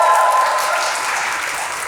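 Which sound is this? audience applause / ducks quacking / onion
audience applause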